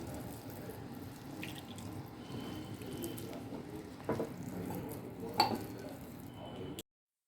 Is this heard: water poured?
yes